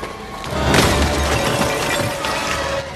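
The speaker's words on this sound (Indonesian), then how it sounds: "Dia telah membeku, tubuhnya jatuh ke lantai dan hancur berantakan." A frozen body drops to the floor of a cold storage room and shatters in a loud, sustained crash, as in a scene from the film Freaky, with no talk.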